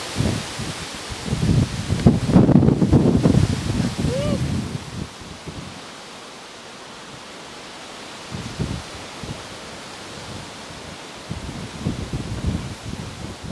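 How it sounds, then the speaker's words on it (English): Gusty wind buffets the microphone with a broad rushing roar that rises and falls, while voices murmur faintly in the background. "Windy. I know, it's windy."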